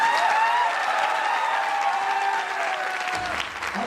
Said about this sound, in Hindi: थोड़ी ताली अच्छी बजा दो।